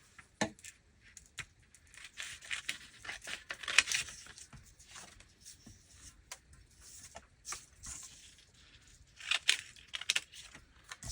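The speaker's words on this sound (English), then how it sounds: "let me grab my scissors, and I'm just going to cut out a little piece of vellum here" Scissors snip through a small piece of vellum with quick, crisp, papery cuts and rustles, close and fairly quiet, coming in irregular bursts separated by short pauses.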